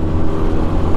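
A BMW car passes on the Fernão Dias highway, a loud, close rush of engine and tyre roar held steady for about a second.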